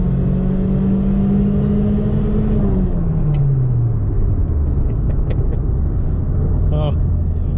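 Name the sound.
1992 Toyota Paseo engine revving hard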